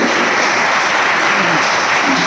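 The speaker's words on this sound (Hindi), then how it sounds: "जोरदार ताली उनके लिए।" Loud, dense applause from a seminar audience at a Sunday health awareness program closing, a steady wash of clapping holding level throughout with a faint voice beneath.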